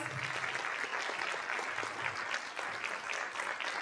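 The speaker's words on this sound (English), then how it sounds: "give them another round of applause" A school district audience at a State of Our Schools event gives a steady round of applause, a dense wash of many hands clapping at moderate distance that holds evenly throughout, with faint voices mixed in.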